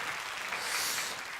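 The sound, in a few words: congregation applauding in church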